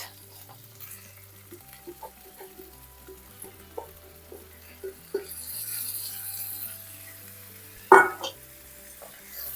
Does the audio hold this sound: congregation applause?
no